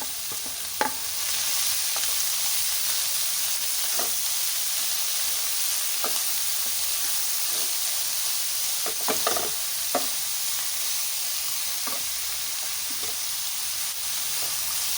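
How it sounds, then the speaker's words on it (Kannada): Spinach and coriander leaves sauté in a hot oil tempering for palak pappu, a constant bright sizzle broken by periodic scraping stirs of a spoon in the pan, close and clear with no talking. "ಈ ಪಾಲಕ್ ಸೊಪ್ಪನ್ನು ಇದರಲ್ಲಿ ಬಾಡಿಸ್ಕೊಳ್ಳೋಣ"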